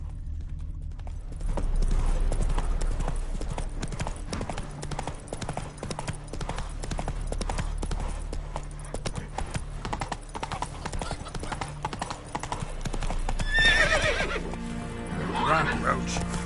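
Roach, a horse in The Witcher video game, galloping with fast, steady hoofbeats close up, a loud whinny near the end, and a voice speaking over the run.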